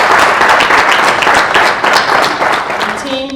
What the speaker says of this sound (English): I'd like to invite everyone to just give a round of applause to the Secretariat,